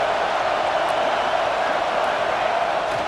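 Steady, dense roar of a stadium crowd making noise on third down in EA Sports College Football 26, a continuous wash of sound with no breaks or talking.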